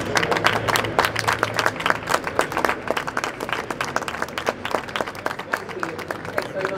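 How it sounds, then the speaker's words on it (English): An audience at a Formula E press conference breaks into a sustained round of applause, dense and loud, with crowd murmur mixed in throughout. "will everyone join me with giving the ABB FIA Formula E Championship and all the manufacturers a huge round of applause."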